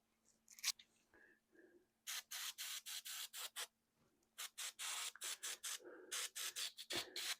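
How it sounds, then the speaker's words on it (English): An airbrush spraying Turbodork and Vallejo metallic paint onto a Warhammer Predator tank model, heard close up as rapid runs of short, sharp hissing bursts with brief pauses between them. "Using the airbrush is just so relaxing."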